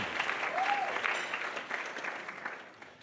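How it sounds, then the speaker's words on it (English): Brief applause from an audience at a Catholic professionals' assembly honoring a woman, a soft, fairly distant patter of clapping that fades over a few seconds. "Give her a big clap."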